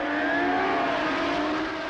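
Formula One race cars from 1965 scream away at the start of the Dutch Grand Prix toward the Tarzan hairpin, a Honda among them, with high engine whines rising in pitch against a steady, somewhat distant roar.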